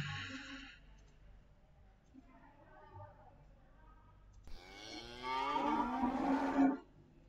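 Cow mooing sound effect played back in a Construct 2 game, with a couple of faint lowing calls early on followed by one long, loud moo near the end.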